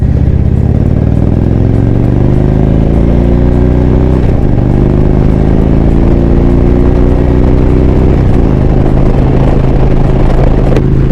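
An Indian motorcycle engine pulls hard while riding, loud and close, with rising throttle sweeps that climb through the gears, shift twice and climb again, over a steady low rumble.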